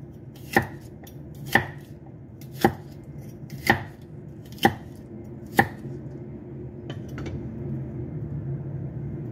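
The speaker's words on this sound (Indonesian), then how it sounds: "Setelah kita potong-potong" A knife chops food on a cutting board in six sharp, evenly spaced strikes about a second apart, close and distinct over a low background hum, followed by a couple of fainter taps.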